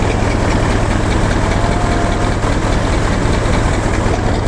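A heavy Scania V8 diesel engine in a tourist bus idles steadily up close, a constant low rumbling drone with no pauses.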